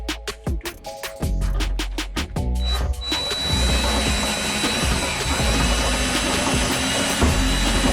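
Step drill bit on a power drill enlarges a 3/16-inch hole, likely in the dash area of a 1968 Chevelle, by a couple of steps; after brief clicks the drill whirs loudly and steadily close by for several seconds.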